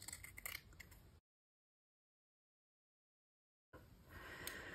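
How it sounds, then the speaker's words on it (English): Cutting scissors snip through knit fabric in short bursts of close crisp cutting, broken by a stretch of silence before the snipping resumes. "let me grab my cutting scissors"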